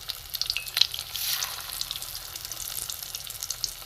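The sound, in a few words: prawn kebab balls frying in a pan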